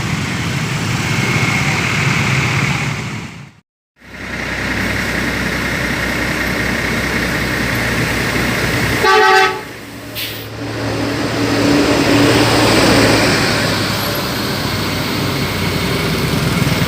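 Steady engine rumble of idling traffic in a jam, many motorbike engines droning nearby, briefly cut out, then resuming at a constant loud level.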